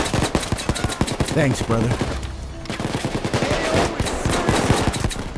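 Rapid automatic gunfire rattles continuously throughout a Payday 2 heist shootout, dense and close, with a player's brief spoken remark mixed over the shooting.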